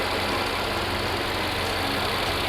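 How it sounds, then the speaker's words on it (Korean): Mercedes-Benz S63 AMG 4MATIC+ sedan (W222) idling with a steady, unbroken engine drone, loud and close for the whole stretch, with no talking. "엔진 소리 일정합니다."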